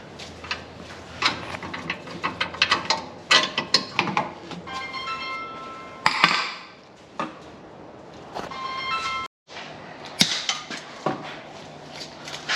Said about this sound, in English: Old shock comes out.